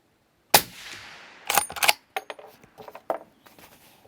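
A Beretta BRX1 bolt-action rifle in .300 Win Mag fires a single sharp, loud shot at a 100-yard range, followed by a scattering of clicks and metallic clatter from handling the action.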